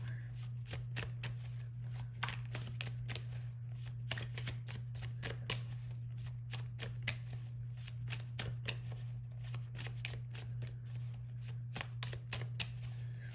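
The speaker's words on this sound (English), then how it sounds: "Let me know if you like the shuffling, like this noise right now." Oracle cards are shuffled continuously at close range, a fast stream of crisp riffling clicks over a low steady hum.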